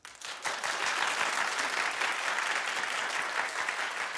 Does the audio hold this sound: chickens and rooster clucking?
no